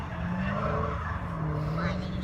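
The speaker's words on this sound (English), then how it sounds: "As Dave gooses the throttle there and gets a little sideways action." A car slides sideways on a dry skid pad, its tires squealing in a sustained, wavering tone over a steady engine drone at moderate distance.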